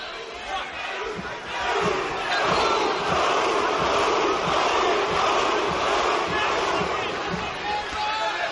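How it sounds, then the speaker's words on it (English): Boxing-match crowd in Bilbao roars in a steady, dense wash of cheering and shouting throughout, loud and continuous with faint rhythmic thumps underneath. "listen to the support that he's getting from the Bilbao crowd"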